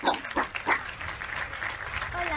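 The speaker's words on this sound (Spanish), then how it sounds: "un fuerte aplauso" Applause for a student at a virtual school talent show, a short patch of clapping mixed with background noise and a few voice-like sounds.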